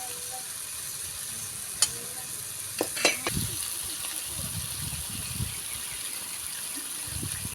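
Chicken fries with turmeric and garam masala in a village cooking setting, giving a steady close sizzle with occasional scraping knocks as it is stirred.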